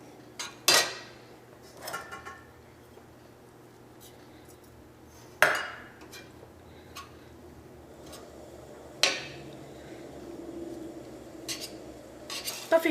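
A spoon stirs and scrapes fish egg fry with garam masala in a pan on a Kerala stove, giving a few sharp metallic clinks and knocks spaced seconds apart over a faint sizzle.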